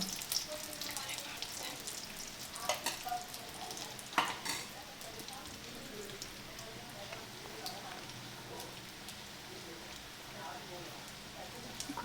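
Cashews frying in a spoon and a half of ghee for ash gourd halwa, a close, soft, steady sizzle broken by scattered pops and stirring clicks, with a voice speaking over it.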